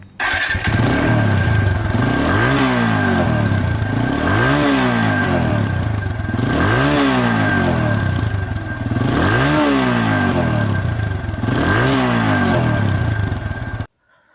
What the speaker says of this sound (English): The bike roars like a monster that is ready to be unleashed.